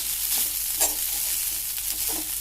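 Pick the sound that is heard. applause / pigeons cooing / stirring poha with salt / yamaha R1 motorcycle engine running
stirring poha with salt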